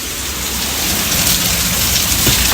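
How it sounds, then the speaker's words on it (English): Heavy rain pours down in a storm as a loud, steady, close hiss of drops on surfaces, with faint rumbling underneath and no voices. "Rain."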